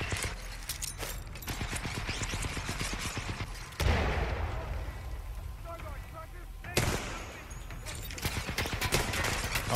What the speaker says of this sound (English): Oh, it's a turret.